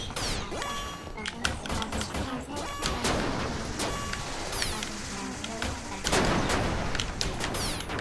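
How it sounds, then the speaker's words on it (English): Rockets fire and explode nonstop in the game Copy Kitty, making a dense, loud run of crackling blasts and sharp impacts that barely lets up for the whole stretch. "I'm just gonna shoot rockets constantly until you're all dead"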